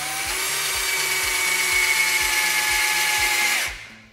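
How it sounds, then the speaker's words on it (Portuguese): A drill whines loudly and steadily while boring a hole in metal metalon tubing for an outdoor sofa, with faint rhythmic ticking beneath before the motor winds down and stops. "Vamos dar um início no furo aqui"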